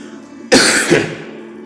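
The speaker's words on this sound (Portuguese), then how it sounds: "Desculpa se está tossindo" A single harsh cough bursts out close up after a moment of quiet, followed by a second weaker hack that trails off.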